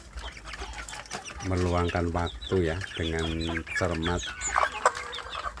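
Native village chicks (anak ayam kampung) cluck and peep in repeated short bursts, fairly close, while someone talks over them.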